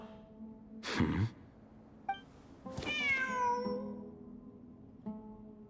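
A cat in Genshin Impact meows several times, a short call followed by a longer drawn-out meow and a softer final one, close and clear over a faint hum.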